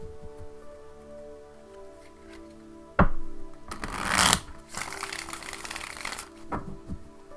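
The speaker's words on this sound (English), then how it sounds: "I do shuffle a lot" Llewellyn Classic Tarot cards being shuffled by hand, soft papery riffles with a sharp snap and a long, loud cascading riffle in the middle, close and alone with no talking.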